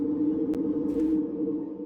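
A steady, muffled mechanical drone from a clothes dryer recording run through very narrow bandpass filters, with tonal hum and a brief bright swish partway through, sounding heavily processed rather than natural.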